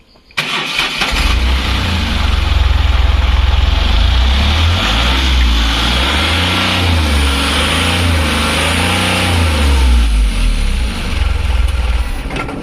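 An Ashok Leyland Dost truck engine cranks and catches almost at once, then idles loudly close by with a few rising and falling revs before settling, no talk over it.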